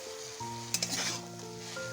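Pumpkin greens stalks frying in a pan as green chillies go in, a hissing sizzle flaring up with a clink of utensil against metal and a low steady hum beneath.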